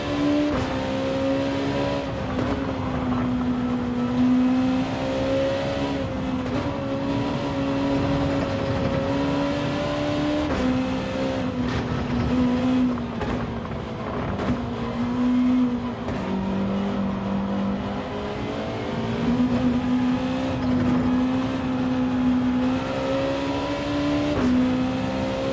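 Racing car engine in a racing video game, a loud, continuous droning roar that climbs and drops in pitch through gear changes and acceleration, with no pauses over the whole stretch.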